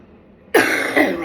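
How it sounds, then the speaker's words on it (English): After a moment of near silence, a person lets out one harsh, rattling cough, close and loud, with a second rough push following straight after. "Rattling cough."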